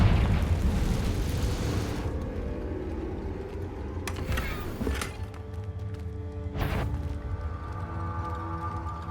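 A Confringo fire spell blasts during a Hogwarts Legacy boss fight, with loud booming explosions over a rumbling game soundscape, strong bursts near the start and again midway, each carrying bright crackling energy.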